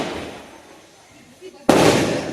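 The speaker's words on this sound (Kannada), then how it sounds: "ಇವಾಗ ಪಟಾಕಿ ಹೊಡಿತಿದ್ದಾರೆ" Firecrackers going off at a village temple fair, a sudden loud crackling burst erupting after a quieter stretch of background voices and ambient noise, continuing densely to the end.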